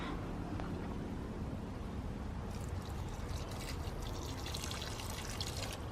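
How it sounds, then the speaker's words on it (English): Water trickles and splashes steadily onto star jasmine plants in a garden, a soft continuous pouring sound that grows brighter partway through, with no talk. "Normally definitely water the star jasmines."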